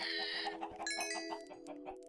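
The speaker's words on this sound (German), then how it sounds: "Drum waren die Hühner so aufgeregt, hä?" Chickens cluck in the video game Minecraft, a quick run of short, repeated clucks close by, layered over a sustained tonal in-game background.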